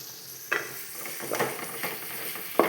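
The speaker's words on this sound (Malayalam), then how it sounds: "4 സവോള അടിപൊളിയായിട്ട് അങ്ങ് ഇട്ടിട്ടുണ്ട്. കണ്ടോ? ഇനി ഇതൊന്ന് ഇളക്കി അങ്ങ് കൊടുക്കണം." Four sliced onions stirred and fried in a pan for a bone curry, a soft continuous sizzle broken by a few scraping stirring strokes, with no voices.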